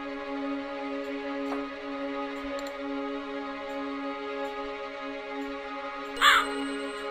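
A raven in the video game The White Door gives a single loud caw near the end, standing out over a steady humming ambient drone.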